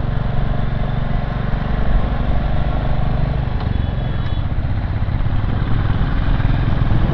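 A motorcycle rides through heavy traffic near Lonavala, its engine holding a steady, loud drone throughout with constant road and wind rush and no breaks.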